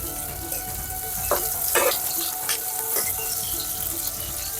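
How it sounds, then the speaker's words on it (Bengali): Onions and green chilies fry in a pan for a fish dish, making a steady, close sizzle broken by a few short scraping stirs, with no one speaking. "পেঁয়াজটাকে এখন আমি হালকা করে ভেজে নিব"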